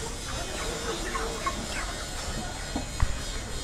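Fowl in a Casablanca neighbourhood yard, including a domestic turkey, make faint intermittent gobbling and clucking calls against a busy outdoor background, with one sharper call near the end.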